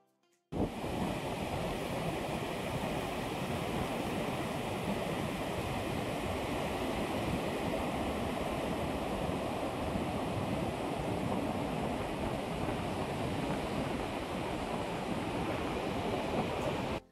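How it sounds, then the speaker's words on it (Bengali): Sea waves at Mandarmani beach, a continuous loud roar of surf with wind from the sea breeze buffeting steadily, no voices, running unbroken after an abrupt start. "কানে ভেসে আসা ঢেউয়ের শব্দ আর হালকা সমুদ্রের হাওয়া"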